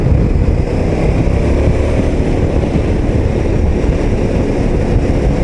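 A KTM 1290 Super Adventure S motorcycle being ridden in third gear gives a loud, steady, low engine drone mixed with wind rush, with no speech.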